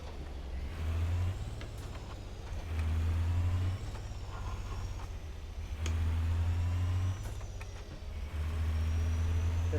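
Modded heavy truck engine in a driving video game, from a ZEEMODS pack of Cat C15 6NZ, Cat 3406B, Detroit Diesel Series 60 and Cummins N14 sounds, revving up and dropping back in four repeated, loud throttle cycles.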